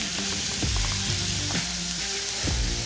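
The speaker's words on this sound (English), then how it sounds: "The boiling water is going to loosen up all the stuck things to the griddle." Water sizzles and hisses steadily on a hot flat top griddle, loosening stuck residue, with a few wooden spatula scraping strokes cutting through the bubbling.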